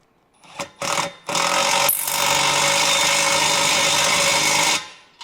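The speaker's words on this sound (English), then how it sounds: "then we'll go to our handy dandy electric wrench, run it in." An electric wrench runs bolts in on a 1965 Mustang restomod, giving two short whirring bursts and then a sustained, close, buzzing run of about three seconds before stopping.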